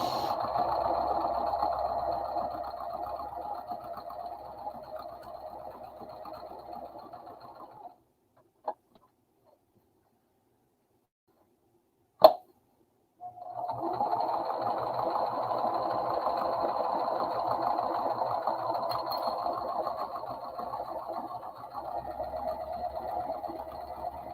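Sewing machine running a steady stitching hum while a seam is sewn during a live session, stopping for a few seconds of near silence with two sharp clicks, then running again.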